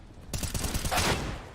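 Gunfire in the Counter-Strike video game, a sudden burst of rapid shots that crackle over about a second and then trail off into reverberant noise.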